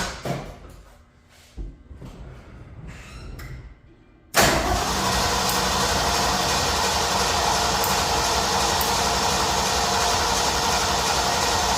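A Ford F100 engine with a freshly tuned carburetor cranks with a few uneven whirs, then catches abruptly and settles into a loud, steady idle that runs close to the microphone.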